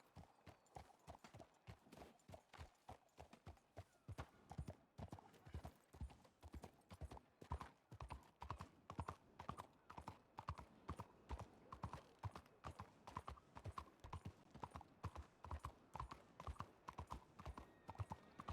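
Horse hooves from the video game RedM clip-clop in a steady, regular rhythm, each hoofbeat crisp and distinct, continuing at an even trotting pace throughout.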